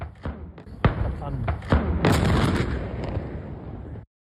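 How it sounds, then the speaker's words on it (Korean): Ammunition depot blowing up at a Greek air force base after a wildfire spread to it: several loud booming blasts and thuds, one after another, followed by a long roaring rumble that cuts off abruptly. "현장을 취재하던 기자도 폭발음에 놀랍니다."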